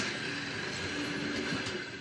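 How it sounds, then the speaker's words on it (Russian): Steady rumble and hiss of a train at a railway station in Smila, Ukraine, on a winter morning, continuous and moderately loud throughout with faint metallic wheel squeal, no voices audible. "ЖД-станция в Смеле шумит, как улей."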